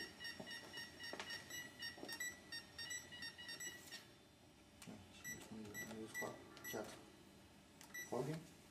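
Alarm system keypad beeping as a user code is entered, a series of short, sharp electronic tones in irregular bursts, with a person talking intermittently between them.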